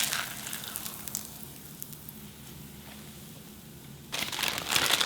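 A mung bean pancake fries in cooking oil with a constant crackling sizzle nearby, which swells louder toward the end.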